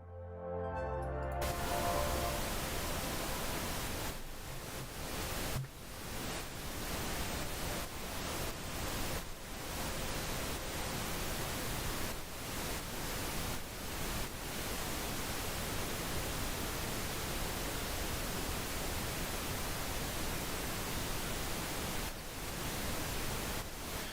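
A noise-wave synth sound built in FL Studio hisses as a dense, continuous wash of broadband static for the whole stretch, with a few brief dips and no talking.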